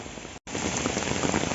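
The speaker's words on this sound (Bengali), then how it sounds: "প্রথমে ভেবেছিলাম খুবই হালকা বৃষ্টি হবে, কিন্তু এখন দেখি ভালোই ঝুম বৃষ্টি হচ্ছে" Heavy rain at a zoo, a dense, loud, steady downpour pattering on surfaces, with a brief dropout near the start.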